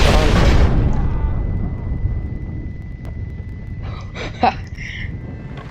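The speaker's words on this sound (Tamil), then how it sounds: "இது ஆக்சுவலி வெடிக்க நினைக்கிறேன்" A TNT explosion in the video game Red Dead Redemption, a loud deep boom that rolls off into a long rumbling decay, followed by faint game sounds and a brief voice.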